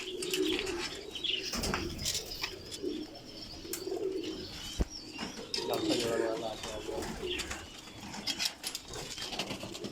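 A pair of Ferozpuri pigeons at a breeder's loft coo softly and flap their wings in short bursts, with other birds chirping and a dog audible nearby, under steady background noise.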